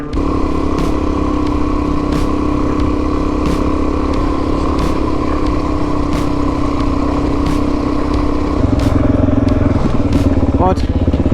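A motorcycle rides along Omicron Road in the Simpson Desert, its engine a loud, steady close-up drone with constant rumble and wind noise throughout.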